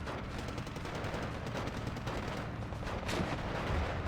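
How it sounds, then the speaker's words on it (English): Rapid machine gun fire in the Steel Division 2 war game: dense, continuous rattling bursts under a thick rumble of battlefield noise, steady throughout with no clear pause. "the machine gun was firing at the Chernos"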